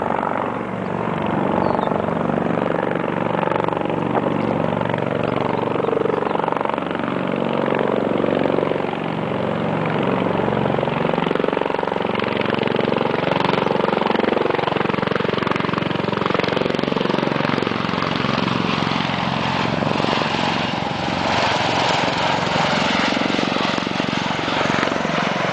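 A V-22 Osprey tiltrotor aircraft makes a low pass in vertical stance, its loud, dense rotor and engine roar sustained steadily throughout without a break.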